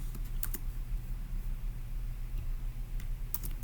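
Keys on a computer keyboard are tapped in short, quiet bursts, a few soft clicks near the start and again toward the end over a faint steady background hum.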